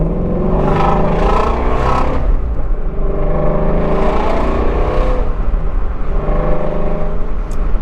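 Ford Mustang Shelby engine revving hard under full acceleration, loud and close, with repeated rising sweeps as it climbs through the gears and no talk over it.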